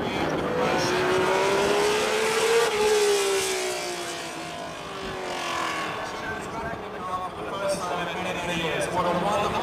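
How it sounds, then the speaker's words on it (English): 1979 Ferrari T4 Formula 1 car driving at a Ferrari anniversary demonstration, its engine note rising and falling as it passes, loud then fading, with a commentator talking over it. "It's Jody Scheckter in the 1979 Ferrari T4, the car that gave Ferraris its last world championship for many years."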